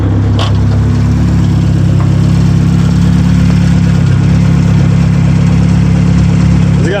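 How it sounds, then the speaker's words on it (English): A loud turbocharged Merkur XR4Ti engine idles steadily, its deep exhaust rumble constant throughout with a faint high whine above it. "Has it got an exhaust leak or is it just loud?"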